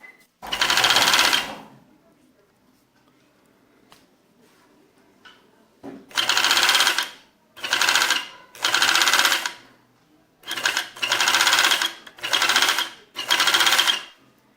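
A home overlock sewing machine stitches fabric in a series of loud, close whirring bursts, one longer run and then several short runs separated by pauses, with faint handling noises in the gaps.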